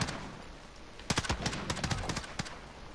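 Gunfire in a shooter video game, short bursts of several sharp shots around the middle, heard over a steady background hiss with no voice on top.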